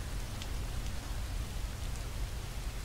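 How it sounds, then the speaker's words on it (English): Heavy rain pours in a video game, a loud, dense, steady hiss with a low rumble underneath, continuous and with no voices. "Oh, I've got to get out of this rain."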